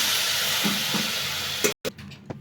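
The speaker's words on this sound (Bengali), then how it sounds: "এবার আমি অল্প জল দিয়ে দিলাম" Water splashes into a hot pan of moringa leaves seasoned with Maggi masala and garlic paste, giving a steady close sizzle and hiss that cuts off abruptly, followed by faint stirring clatter.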